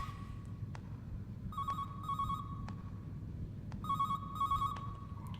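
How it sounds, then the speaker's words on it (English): A telephone rings in the video game Calling, repeating bursts of a bright electronic bell tone in two pairs over a steady low background hum, with sharp clicks between them. "It's not here that the phone's going off at."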